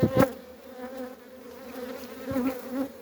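A steady swarm of bees hums close by, with individual insects buzzing louder as they pass near.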